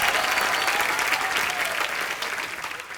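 Enthusiastic studio audience applause welcoming actor Paresh Rawal on a comedy talk show, a dense continuous wash of clapping that eases slightly toward the end.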